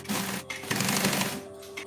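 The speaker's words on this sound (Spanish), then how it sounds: "Y ahora vamos a coser los laterales." A sewing machine stitches the side seams of a fabric cosmetic bag, a close, fast mechanical whirr in two short runs broken by a brief pause.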